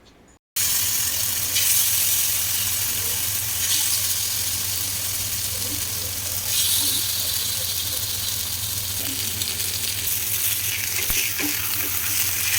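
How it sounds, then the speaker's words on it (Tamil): Marinated fish pieces fry in oil on a flat dosa griddle: after a brief quiet start, a constant close sizzle with hissing spits fills the rest, steady and even with small surges. "தோசைக்கல்ல எண்ணெய் போட்டு ஊற வச்சுருக்க மீன் பீஸை எடுத்து போட்டு வறுத்துடலாம்"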